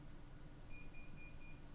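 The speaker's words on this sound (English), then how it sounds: "And I set the timer for 5 minutes." A kitchen timer being set gives a short run of faint, evenly spaced high electronic beeps, about four quick chirps in a row over a low background hum.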